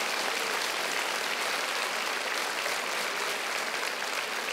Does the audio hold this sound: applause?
yes